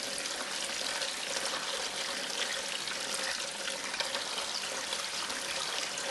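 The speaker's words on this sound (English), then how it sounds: "get the cold water going. You know, you see that? And just rinsing it right through." Cold water runs hard from a kitchen tap over rice being rinsed, giving a steady, dense hiss and splash that stays constant and close throughout, with no voices.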